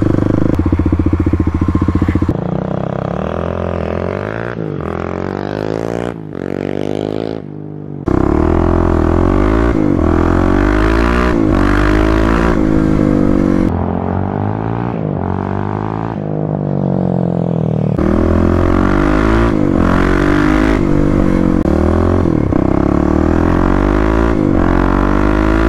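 A 2018 Kawasaki KLX351 motorcycle fitted with a full Barker exhaust revs hard and loud up close, the engine pitch climbing and dropping through repeated throttle blips with brief pauses between, rich in harmonics.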